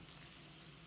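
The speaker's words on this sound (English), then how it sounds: "And it's all sizzling in the pan." Garlic, sage, parsley and broccoli sizzle in olive oil in a pan, giving a soft, steady hiss with no talking.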